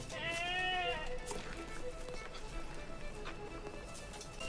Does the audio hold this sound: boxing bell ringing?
no